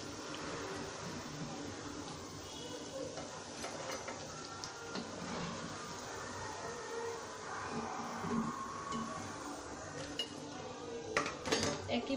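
Crisp fried potato pakoras are lifted from a pan of hot oil, with steady clinks and scrapes of a metal utensil against the pan over a continuous low frying hiss, close and moderately loud.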